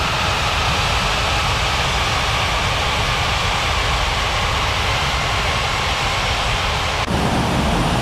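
Airliner engines roar steadily in an air traffic control video game as planes taxi and take off, a loud, unbroken jet drone throughout with a brief shift near the end.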